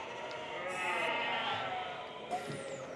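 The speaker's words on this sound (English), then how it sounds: "Nice lambs though." Lambs bleating close by on a farm, a few high wavering cries against steady outdoor background noise, with a brief knock near the end.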